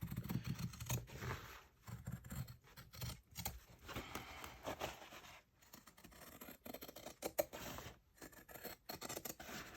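Scissors snipping paper while trimming a page from a Little Golden Book for a junk journal, a close, irregular run of crisp cuts and rustling scrapes broken by brief pauses.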